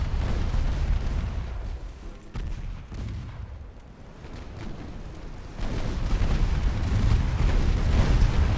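Naval battle in Ultimate Admiral Dreadnoughts with 6-inch guns firing, a dense loud roar of overlapping booms and rumbling blasts that dips briefly midway and then swells again.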